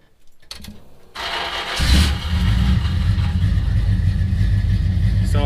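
A GMC Jimmy engine cranks and catches, then settles into a steady, loud running rumble with a low throb close by, after a brief quiet start and some clatter.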